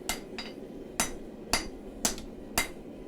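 A chef knife blade is hammered by hand at the forge, with six sharp metallic strikes spaced about half a second apart. Each blow rings briefly and stands alone.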